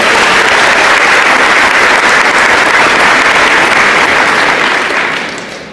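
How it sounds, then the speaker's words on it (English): A school athletic signing audience applauds loudly for baseball players, dense sustained clapping that holds strong for several seconds and then tapers off at the end. "If we can give those guys a round of applause for that"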